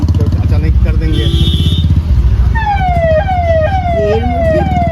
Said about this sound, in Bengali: আর পিছনে অ্যাম্বুলেন্স রয়েছে